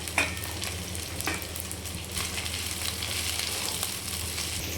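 Chopped okra frying in a pan, a steady sizzle with a few sharp clicks and scrapes of stirring near the start, close and continuous without talk.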